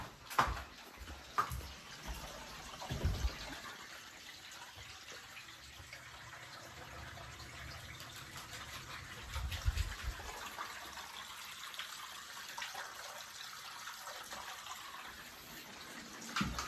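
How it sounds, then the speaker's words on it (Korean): Water runs from a tap in a steady, faint hiss and gush, with a few louder splashes and knocks near the start and around the middle, and no talking. "물소리 들려줄게"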